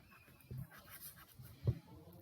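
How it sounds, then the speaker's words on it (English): Pen writing on paper for a math worked example, faint scratchy strokes with a couple of short louder marks, close and quiet. "I'm just writing."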